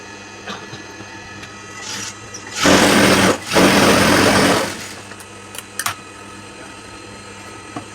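Sewing machine back-stitching a chudithar near the finished neckline, running in two close bursts of about a second each after a quiet pause, then stopping, with faint handling clicks around it.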